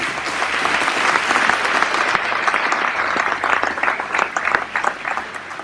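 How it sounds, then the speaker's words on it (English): At a ribbon-cutting ceremony for a county crisis stabilization unit, a seated crowd gives the board of directors a sustained round of applause, dense and even with scattered louder claps, and little talking. "Give them a round of applause."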